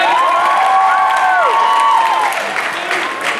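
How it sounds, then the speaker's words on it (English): Round of applause and cheering from a high school talent show audience, loud clapping mixed with shouts and whoops from students, fading slightly toward the end. "Round of applause."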